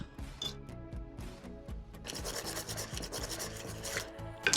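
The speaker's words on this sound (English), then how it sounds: "Give this a whisk." A whisk scrapes and rasps through brown sugar, cinnamon, ginger and raisins in a bowl, quick repeated strokes building into a steady busy scraping, close but fairly quiet.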